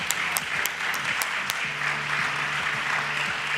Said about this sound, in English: I'm going to give us an opportunity to applaud that moment.